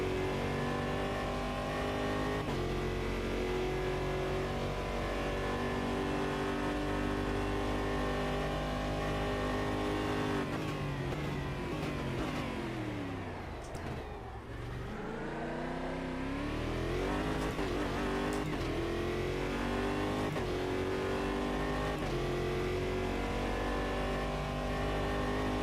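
A race car engine in Automobilista revs hard and steadily, then its pitch drops sharply as the car brakes and slows, before climbing again under acceleration. The sound is continuous and fairly loud, with no talk.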